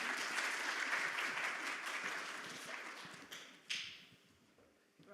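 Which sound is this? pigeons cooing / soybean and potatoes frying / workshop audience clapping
workshop audience clapping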